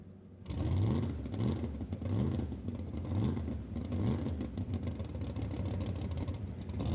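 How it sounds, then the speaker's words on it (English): A single-turbocharged 1968 Chevy Camaro drag car rolls slowly at a racetrack, its engine a low, steady rumble with some clatter, moderately distant and fairly quiet. "Kurt Thompson in his 1968 Chevy Camaro rolling underneath the Lordco Auto Parts Bridge"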